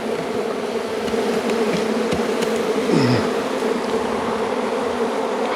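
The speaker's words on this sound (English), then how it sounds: "This is just insane at the number of bees in this colony." A dense, continuous buzzing of many honeybees in a hive colony fills the space, loud and close, with individual insects droning past.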